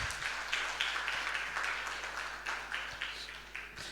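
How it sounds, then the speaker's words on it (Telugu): A church congregation claps together, a broad wash of many hands slapping in loose rhythm at moderate distance, gradually thinning out toward the end, with a low steady hum underneath. "చప్పట్లు కొట్టి దేవుని మహిమపరుద్దాం"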